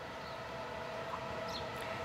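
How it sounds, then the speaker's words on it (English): An E464 electric locomotive pulls into a station in Sicily with a train bound for Messina: a steady, fairly faint rolling rumble with a thin sustained whine running throughout, and no voices. "while another E464 arrives with a train for Messina"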